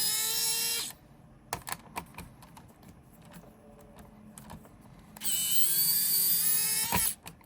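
An electric screwdriver backs screws out of a Rock Band guitar controller in two high, whining bursts, with small plastic clicks and taps in between.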